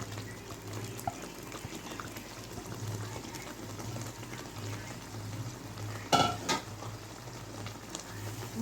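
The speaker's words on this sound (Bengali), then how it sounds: "তারপর যে মাংসটা আমি মেখে রেখেছিলাম টক দই আদা রসুন দিয়ে সেইটা দিয়ে দিচ্ছি মশলাটা" Chicken marinated in sour yogurt, ginger and garlic goes into frying masala in a pan, a steady low sizzle with a sudden louder splash and crackle burst partway through, then settling back, close with no voices.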